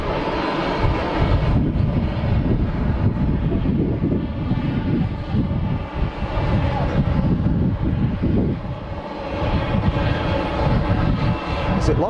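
An airliner lands at Geneva Airport with its thrust reversers deployed, producing a loud, continuous engine roar that holds steady across the whole stretch and briefly dips midway.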